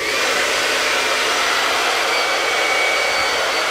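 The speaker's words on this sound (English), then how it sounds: "I like to do a dry with a hair dryer first to get some of that moisture out" A hair dryer blows steadily with a loud, even whooshing roar that doesn't change for a few seconds.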